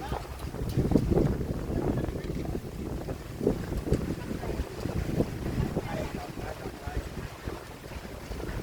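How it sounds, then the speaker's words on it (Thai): Strong wind blows outdoors at the Chan Ta Then waterfall in Si Racha, Chonburi, buffeting the microphone with continuous rough, gusting rumble and hiss that stays loud and close throughout. "ลมดีมากอยู่ตรงนี้หลับสบายเลยอะ"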